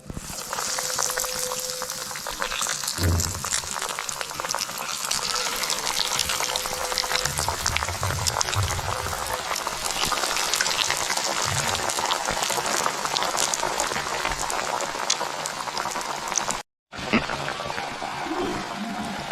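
Tender jackfruit cutlets fry in hot oil with a continuous crackling sizzle, close and steady, with a brief drop-out near the end.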